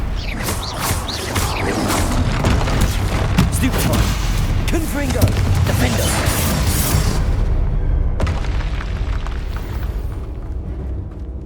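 Confringo blasting spells in Hogwarts Legacy combat, loud booming impacts and crackling bursts over a dense battle din, with a character's voice calling out amid the fight.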